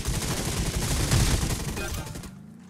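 Rapid, dense gunfire in a vehicle combat video game, a continuous rattling burst that fills most of the moment before cutting off abruptly, leaving a low engine-like hum.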